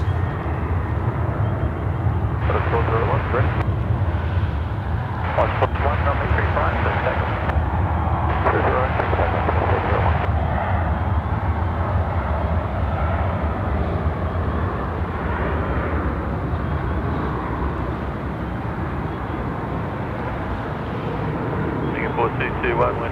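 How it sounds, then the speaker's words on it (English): A steady, loud jet roar from a Singapore Airlines airliner landing on runway 34 left at Sydney Airport, filling the whole stretch with broad rumbling noise, while voices speak intermittently over it. "We're looking for a Singapore Airlines aircraft now out there coming in for runway 34 left."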